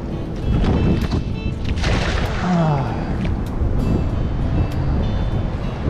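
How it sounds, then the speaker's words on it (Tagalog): Strong wind buffets the microphone out at sea aboard a small fishing boat, a loud, roaring rush with gusty swells, and someone speaks briefly over it. "lakas po ng hangin"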